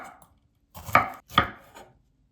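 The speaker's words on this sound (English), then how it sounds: "So slice up those jalapenos." A knife slices jalapeño peppers on a cutting board, giving two crisp, close chopping strokes in quick succession, followed by a softer third cut in otherwise quiet surroundings.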